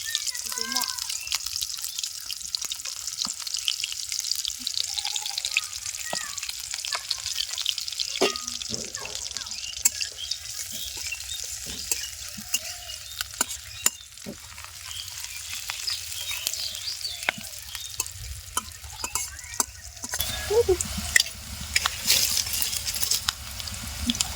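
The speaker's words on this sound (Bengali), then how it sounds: "পেঁয়াজ আর রসুন দিয়ে দেবো। মানে এই তেলটা একটু গরম হলে পরে ছাড় হরবি" Onion, garlic and green chilies fry in hot oil in a pan, giving a continuous loud crackling sizzle with scattered pops and stirring clicks while people talk over it.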